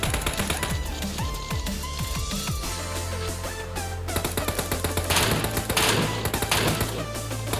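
MK14 rifle fire in a shooter video game comes as rapid sharp shots and bursts over layered in-game effects, loud and close throughout.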